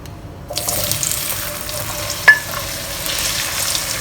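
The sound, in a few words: potato cubes sizzling as they shallow fry in hot oil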